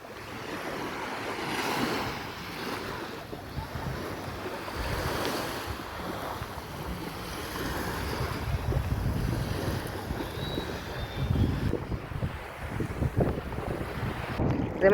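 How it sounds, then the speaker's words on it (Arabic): Red Sea waves wash onto the beach at Ain Sokhna, Egypt, a steady surging roar of surf with gusting wind buffeting the microphone and no one speaking. "هسيبكم بقى مع صوت البحر دلوقتي"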